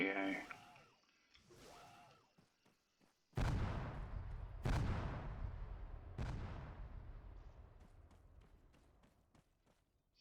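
Bombs explode in the Arma 3 video game, three heavy booming blasts about a second apart, each trailing into a long rumbling decay after quieter clicks and shuffling.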